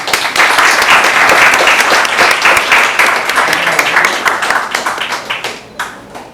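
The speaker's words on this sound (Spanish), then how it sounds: "Un aplauso, por favor. Todos." Sustained audience applause at a legal seminar on a new civil procedure code, dense and loud, thinning into scattered individual claps toward the end.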